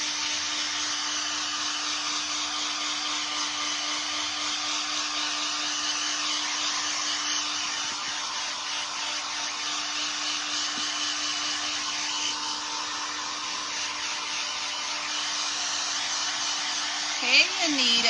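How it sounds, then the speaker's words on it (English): A heat tool blows steadily on a styrofoam pumpkin during a craft session, its loud, even airy whoosh and motor hum running continuously, with a faint steady tone underneath. "because this is kind of a styrofoam pumpkin, you want to go a little bit farther out with your heat tool."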